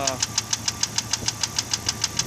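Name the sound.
car engine knocking, possible piston slap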